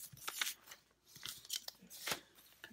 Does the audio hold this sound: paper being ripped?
yes